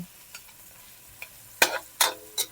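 Tomatoes frying in oil in a home kitchen, stirred with a utensil: a few faint early scrapes, then three loud bursts of stirring and sizzling in quick succession near the end, close by with no talk.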